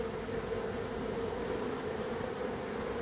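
Honeybees fanning outdoors during the catching of a swarm: a continuous, even buzzing hum that is dense and steady throughout, with no voices.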